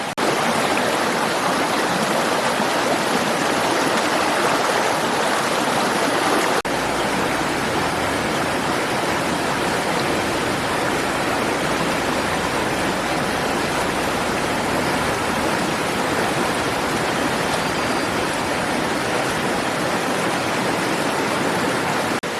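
Steady close rush of a shallow forest stream being waded across in South Goa, broadband water flow continuous and loud throughout, with a slight shift partway as the footing changes.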